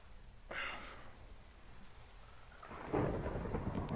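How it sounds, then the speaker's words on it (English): Video game thunderstorm: steady rain patters throughout while two rolls of thunder rumble, a sharp crack early on and a louder, closer boom near the end. "That's a thunderstorm."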